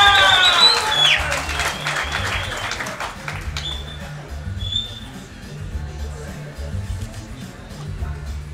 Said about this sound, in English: round of applause for Nicholas Walters on the scale